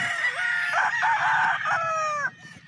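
An early bird gamefowl rooster crows loudly and close by in one long, wavering cock-a-doodle-doo lasting about two seconds, with faint clucking and soft farm background around it.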